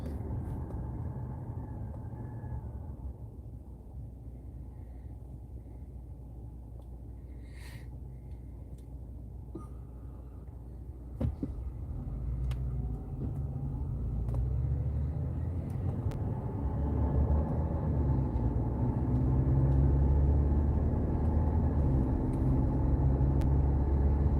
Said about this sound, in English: You can hear the big trucks.